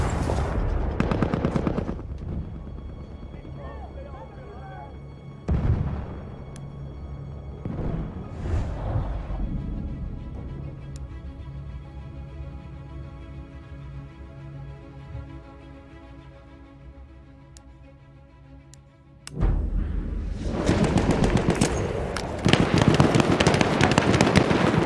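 Explosions and gunfire in the video game Battlefield 1, with a burst of loud blasts and rattling shots early on, a quieter stretch of lingering rumble, then a dense, loud barrage of gunfire near the end.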